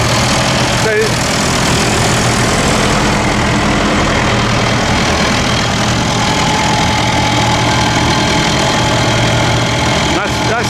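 A tractor engine idles at a farm sale, giving a loud, close, steady rumble throughout with a faint knocking texture.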